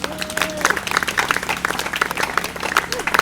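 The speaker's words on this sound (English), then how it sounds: "keep clapping for Anna and Kate" Sustained crowd applause at an outdoor bandstand music session, loud and continuous for several seconds, with individual claps standing out and a voice briefly heard over it.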